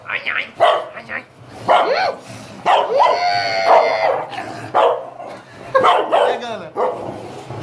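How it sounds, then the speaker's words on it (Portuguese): Several dogs bark and yip indoors in a house, sharp barks and whimpers overlapping with someone talking throughout, close and fairly loud. "É muito cachorro nessa casa."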